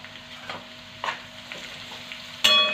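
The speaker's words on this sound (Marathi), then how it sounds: "हळद पण आपल्याला छान मस्त अशी तेलामध्ये फ्राय करून घ्यायची आहे" Turmeric frying in oil in a pan while cooking a vegetable dish of hadga flowers, a low steady sizzle with a few soft stirring scrapes and a sharper clink at the end.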